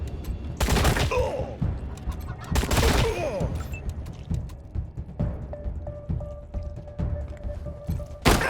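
Gunfire in the video game Wasteland 3, two loud bursts of shots a couple of seconds apart, followed by quieter thuds, clicks and a sustained electronic tone.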